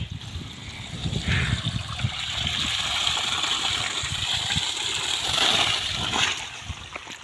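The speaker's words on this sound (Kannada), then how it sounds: "ನೀರು ತುಂಬ್ತಾ ಐತೆ" Water gushes from a village farm pump into a tank, a continuous rushing and splashing flow that holds steady and fairly loud for the whole stretch.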